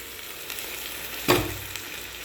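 Boiled beef and chopped herbs sauté in a hot pan with a steady sizzle, marked by one sharper burst of frying as ingredients drop in; no talking.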